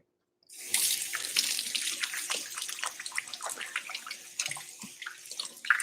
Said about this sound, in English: we're going to make sure the cutting board gets washed